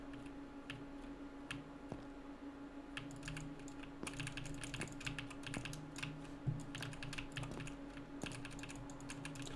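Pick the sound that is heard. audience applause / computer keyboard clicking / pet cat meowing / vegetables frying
computer keyboard clicking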